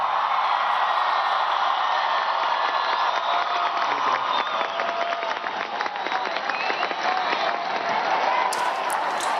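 A crowd of faithful applauds the Pope's speech during his visit to Bogotá Cathedral, with dense, sustained clapping and scattered cheers that hold steady for the whole stretch.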